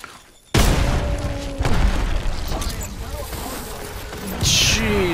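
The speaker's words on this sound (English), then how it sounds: "Oh, grenade!" A grenade blows up in a first-person shooter video game, a sudden loud boom followed by rumbling battle noise and further blasts while a player talks over it.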